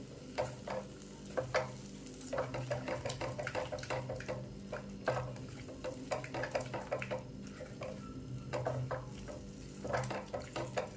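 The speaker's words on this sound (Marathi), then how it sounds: "आता ही प्युरी देखील आपल्याला याच्यामध्ये मिक्स करून घ्यायची आहे" Tomato puree being stirred into frying vegetables for veg kolhapuri, with a steady sizzle under repeated spoon scrapes and taps against the pan, close and continuous, no talking.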